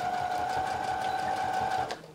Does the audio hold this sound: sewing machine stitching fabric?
yes